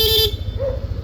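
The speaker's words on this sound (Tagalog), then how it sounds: "Busina, Bosch Evolution, long press, magra-rapid." A Bosch Evolution dual horn fitted to a Yamaha Aerox scooter sounds one loud, close honk, cut short, followed by a brief second tone over an idling engine rumble.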